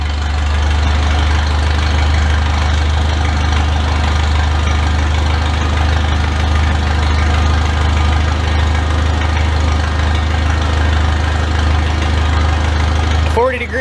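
A 1977 vehicle engine fires without choke and settles into a loud, steady, close idle with a deep rumble and a faint knock, running unbroken until a brief clunk at the very end.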